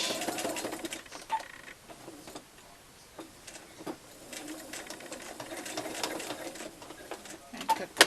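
A sewing machine back stitches a fabric face mask, running in short uneven bursts with brief pauses, close and moderately loud, with no talking.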